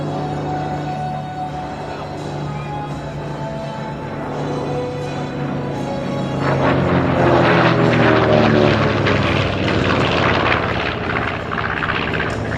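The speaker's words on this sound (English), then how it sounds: "as the B-25 Mitchell, Mishap, coming in from your right" A B-25 Mitchell World War II medium bomber flies past at an air show, its piston propeller engines droning steadily and swelling louder as it nears, with a broad roar lasting the whole time and no talk.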